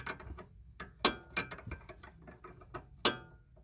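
A wrench turns a nut in a run of sharp, irregular metallic clicks, close and fairly loud, with no talking.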